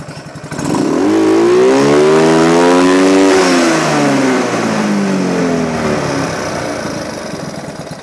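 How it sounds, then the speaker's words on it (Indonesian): A motorcycle fitted with a Silent Killer power pipe exhaust revs hard to full throttle, the engine note climbing loud and close, holding near the top, then easing off slowly. "Subukan naman natin i-full rev."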